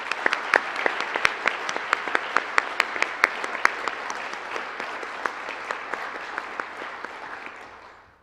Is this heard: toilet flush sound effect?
no